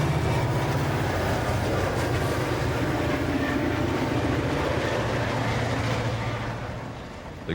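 The St. Louis to Tulsa freight train rolls past on the BNSF Cuba Sub in Ozark country, a steady loud rumble with rhythmic wheel clatter that fades toward the end.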